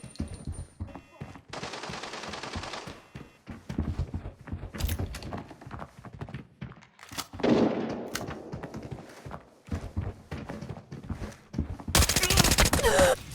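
Gunfight in the video game Arena Breakout, with bursts of automatic rifle fire, scattered single shots and a loud final volley, mixed with footsteps and movement noise.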